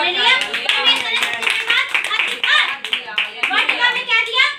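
A church congregation claps hands together in rapid, rhythmic bursts during a Christian worship service, loud and close throughout, with voices calling out over the clapping.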